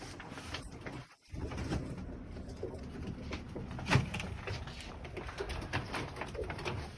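Pigeons coo softly and repeatedly at close range in a balcony coop, with a brief bump and faint room noise between the calls.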